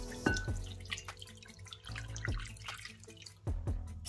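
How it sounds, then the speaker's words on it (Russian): Cooled vinegar marinade is poured over mackerel, producing intermittent splashes and drips of liquid, close and fairly clear. "Маринад остыл. Заливаем рыбу."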